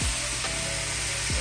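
Mole sauce poured into a hot cazuela of fried rice, sizzling and frying steadily throughout with a couple of low scraping sweeps, close and alone.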